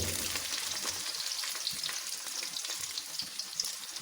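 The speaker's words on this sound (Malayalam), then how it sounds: "പച്ചമുളക്, കറിവേപ്പില എല്ലാം കൂടി അങ്ങോട്ട് വഴറ്റിയെടുക്കാം" Ginger, garlic, green chillies and curry leaves sautéing in oil for a Kerala-style lemon pickle, giving a continuous close crackling sizzle with light stirring, steady throughout.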